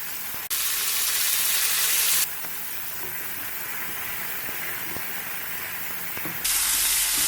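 Soy sauce and Worcester sauce hitting a hot pan of Bengali chicken stew, a loud steady sizzle that surges at the start, settles to a lower hiss, then flares up again near the end, with no voices.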